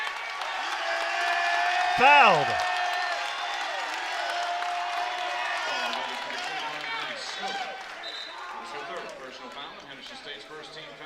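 A women's college basketball crowd in a gym roars and applauds through a close game, steady and loud, under a play-by-play commentator talking over it, with a whistle near the start.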